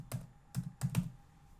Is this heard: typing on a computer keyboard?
yes